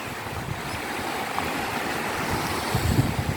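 Sea waves wash onto the beach at Mae Ramphueng in Rayong, a steady rolling surf with a low rumble and wind buffeting the microphone, swelling slightly near the end with no voices.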